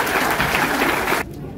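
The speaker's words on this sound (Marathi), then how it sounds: "आपण सगळ्यांनी टाळ्या वाजून अभिनंदन करूया" A crowd at a birthday felicitation for an MLA claps in a dense, loud burst of applause that cuts off abruptly near the end, leaving a quieter room tone.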